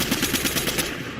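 Video game SMG gunfire rattles in a steady, rapid, loud automatic burst, close and continuous with no pause and no talking.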